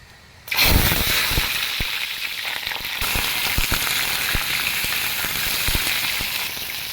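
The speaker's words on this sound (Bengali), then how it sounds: "সরিষার তেল দিয়ে তেলটাকে খুব ভালোভাবে গরম করে নিয়ে নিয়েছি আর এখন এখানে কেটে রাখা পটলটা দিয়ে দেওয়া হবে" Sliced pointed gourd hits hot mustard oil with a sudden loud burst of sizzling that settles into a steady, dense frying hiss close by, punctuated by occasional clinks and scrapes of a utensil.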